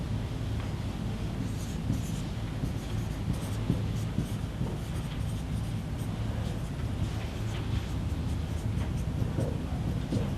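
An address is written up on a board as a continuous scratchy marker-like scrawl of steady strokes over a constant low room hum, moderately close, with no talking.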